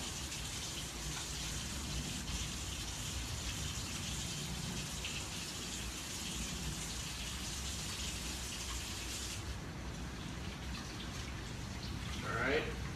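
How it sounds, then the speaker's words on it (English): A kitchen tap runs steadily for hand washing after handling fish, a continuous hiss of falling water near the mic that quiets and shifts in the final seconds. "I'm just gonna wash my hands again."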